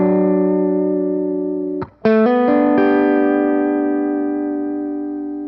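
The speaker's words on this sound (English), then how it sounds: "You can listen to the change in sustain we get by bypassing the steel string." Electric guitar through a Vertex Steel String pedal rings a sustained chord, is briefly cut, then restrummed with bright arpeggiated strikes that hold and slowly fade, loud and close with no talking.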